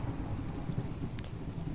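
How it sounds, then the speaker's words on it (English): A video game thunderstorm with rain, a low continuous rumble of thunder under steady rainfall hiss, fairly faint and distant, with a brief sharp tick near the end. "it's a thunderstorm"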